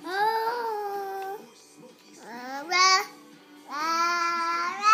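A 14-month-old child sings in wavering, breathy phrases with pauses between them, up close and alone.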